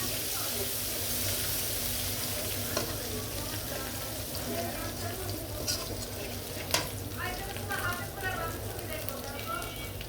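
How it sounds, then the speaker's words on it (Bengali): Chopped garlic frying in oil until lightly browned, a continuous close sizzle with scattered clinks and scrapes of stirring, a voice talking over it at times. "রসুন এটা দিব, হালকা একটু লাল লাল হয়।"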